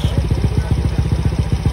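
A Honda Mio i125 scooter engine bored up to 150cc idles close by, a steady, even putter of rapid low pulses with light mechanical clatter and no voices.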